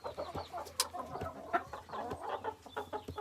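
Hens and roosters in a breeding pen, including Marans, Araucana, white-crested Dutch and Brahma birds, clucking and calling in quick overlapping bursts at moderate distance, with no talk.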